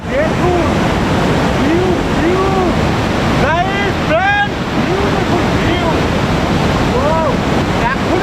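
The Jholumkhola river rushing beneath a wooden bridge in the hills, a loud continuous roar of water with wind buffeting the microphone, and birds chirping repeatedly over the top.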